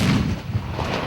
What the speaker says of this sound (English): Gunshots and screams caught on tape.